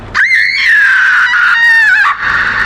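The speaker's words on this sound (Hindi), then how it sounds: "उसकी चीख इतनी तेज थी कि किसी का भी दिल दहल जाए।" A woman screams in pain, a loud, sustained wavering cry of about two seconds standing alone as a dramatised effect in a Hindi story.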